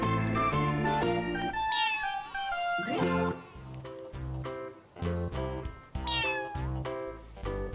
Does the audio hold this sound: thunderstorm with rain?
no